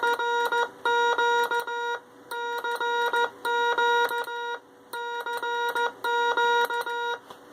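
Morse code CQ sounds as steady, clean electronic beeps, repeated several times in a crisp rhythm of long and short tones with brief gaps between each group, close and alone.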